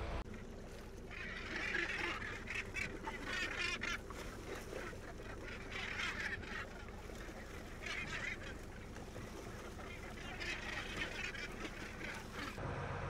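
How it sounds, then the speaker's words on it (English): Many seabirds, gulls and gannets mobbing a boat, call in a noisy, overlapping chorus of harsh squawks and cries, bursts coming in waves over a steady background rumble. "We've got a mixture of gulls and gannets here."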